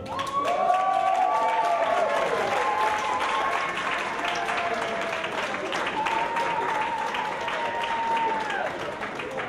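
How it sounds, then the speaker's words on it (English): A community special-recognition ceremony, with steady audience applause and a few cheers filling the room for nearly ten seconds while a presenter's voice carries over the clapping. "A big, big round of applause for ESAM"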